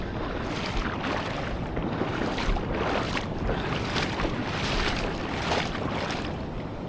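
A light breeze blows by the water: a steady, broad rush of wind with soft gusting swells throughout, fairly loud and close, with no voices.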